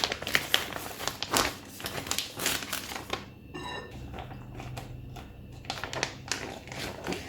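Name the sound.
plastic bag crinkling as salmon fillets are put inside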